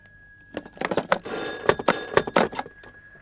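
A telephone bell rings in several quick, jangling bursts, loud and close, with no one speaking.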